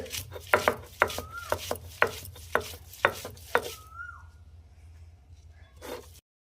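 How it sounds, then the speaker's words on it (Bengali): Meat being worked by hand with a marinade and spices, a series of sharp wet slaps and squishes in an uneven rhythm for about four seconds, then quieter rubbing with a faint high squeak, and a last slap at the end. "সুন্দর করে মেখে নিচ্ছি, সুন্দর করে।"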